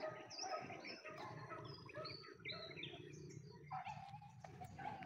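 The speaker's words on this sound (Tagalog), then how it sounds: "dito daanan ng mga ibon" Racing pigeons in a flock fly past during a training run near Talugtog, with bright chirps and calls from birds overhead and a busy rustle of wings and background activity.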